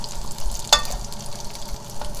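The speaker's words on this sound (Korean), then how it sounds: "우선 이렇게 노가리를 바싹 볶아야지" Dried pollock (nogari) is stir-fried dry in a pan for a spicy gochujang side dish, giving a soft, steady sizzle with one sharp clatter near the start, close by and with no talking.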